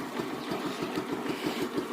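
A Bajaj Pulsar motorcycle engine idles steadily nearby with an even low throbbing pulse, no talking.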